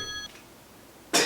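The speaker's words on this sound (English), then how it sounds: "The phone is ringing." A phone rings briefly with a steady electronic tone, followed after a pause by a louder burst of noise; no one speaks over it.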